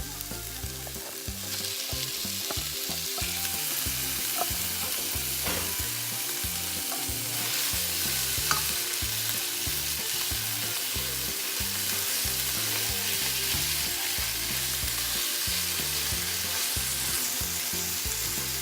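Corned beef frying in a pan over medium-high heat, a steady loud sizzle running throughout with occasional scrapes and clinks from stirring.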